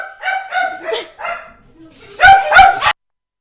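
Several dogs bark excitedly at a delivery arrival in a home, first a run of mid-pitched yips and barks, then a brief pause and a louder, closer burst of sharp barks.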